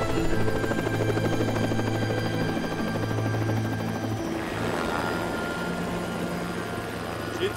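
Helicopter in flight, a loud continuous rotor drone with a steady throbbing hum heard from inside or close by, filling the whole stretch, with voices talking underneath.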